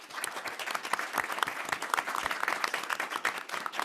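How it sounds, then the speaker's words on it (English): An audience at a California 100 panel event on immigrant integration applauds the panel, producing dense, steady clapping from many hands with no gaps throughout. "Let's give this panel a big round of applause."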